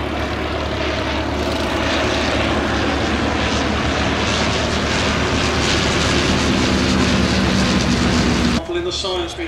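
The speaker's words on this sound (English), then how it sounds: "The third aircraft that's joined it is effectively the Spitfire of the First World War, it's the SE-5A." Loud, continuous propeller engine drone from an SE-5A First World War fighter flying nearby, with a voice talking over it until it cuts off near the end.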